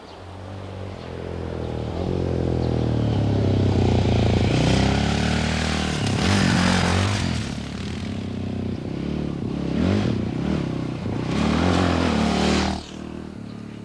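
A dual-sport motorcycle with both electric and kick start, built for terrain and road, revs loudly and steadily close by, its engine note rising and falling with gear changes throughout.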